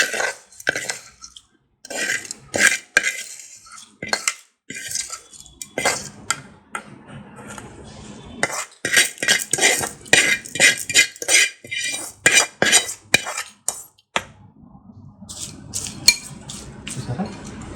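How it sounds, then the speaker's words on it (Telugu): A spoon mixes fried tempering into coconut chutney in a bowl, giving irregular bursts of sharp metallic clinks and scrapes with brief pauses between them, close and fairly loud. "ఇప్పుడు ఈ తాలింపుని చక్కగా ఇందులో మనం యాడ్ చేసుకుందాం"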